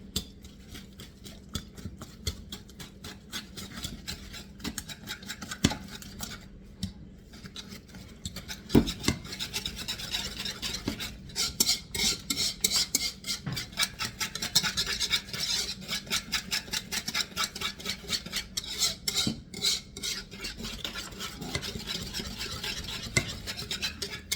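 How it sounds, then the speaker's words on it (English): A carrot pudding mixture for a 1796 recipe being whisked by hand, a close, rapid, continuous scraping and rasping of the whisk against the bowl that grows more vigorous partway through, with no talk. "Now, we're going to have to whisk this up."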